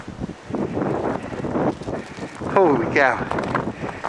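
Strong, gusty blizzard wind buffets the microphone in surging roars during heavy snowfall, with a person exclaiming over it.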